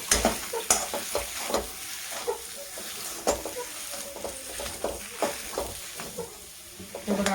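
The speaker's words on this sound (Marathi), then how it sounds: "कोथिंबीर पण आपण छान अशी मिक्स करून घेऊ." Spiced potato filling for aloo paratha being stirred in a hot pan after chopped coriander goes in: a soft continuous sizzle punctuated by repeated spatula scrapes and taps at an uneven rhythm, close and fairly quiet, with no talk.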